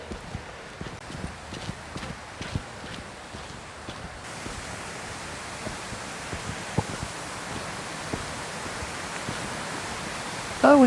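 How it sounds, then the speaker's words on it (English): Water flows steadily near a waterfall along the Falls Creek Trail, a broad continuous rush heard alone at moderate distance, interrupted only by a few soft footstep-like taps. "I hear water, so maybe we will get a waterfall."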